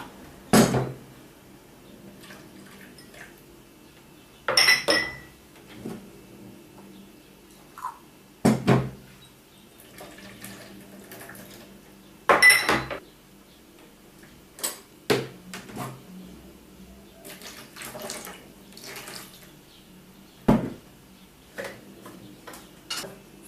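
Glass jars, a yogurt maker lid and a spoon handled in a kitchen during disinfecting, giving sharp isolated clinks and knocks at irregular intervals against a quiet room.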